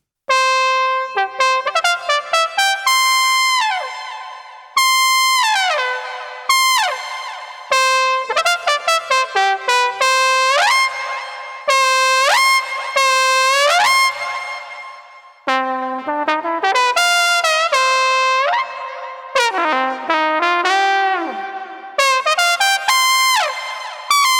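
Synthesized brass lines with repeated pitch fall-offs and upward doits, bright and bending, playing alone in a lively phrase.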